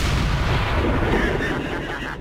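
Gunfire from the video game XCOM 2: a dense, loud, sustained roar of low booming shots and bursts that fades slightly toward the end, with no voices over it.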